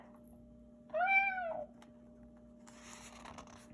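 A single clear meow from a cat, close and fairly quiet, lasting under a second over a faint steady electrical hum, followed by soft rustling.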